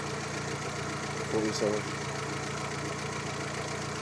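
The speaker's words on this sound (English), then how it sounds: "we left the engine running for about 2-3 minutes" A car engine idles steadily during an electrical upgrade, with a constant low hum running under the whole stretch while a voice speaks briefly over it.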